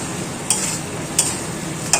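Potatoes fry with spices in a pan for aloo dum and are stirred, giving a continuous sizzling hiss. Three sharp scraping strokes of the spoon cut through it at regular intervals, close and clear.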